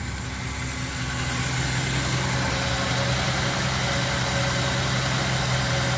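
Engine of a 1962 Chevy Impala 2-door idling at a steady, even rumble, loud and close, with a constant low hum and no talking over it.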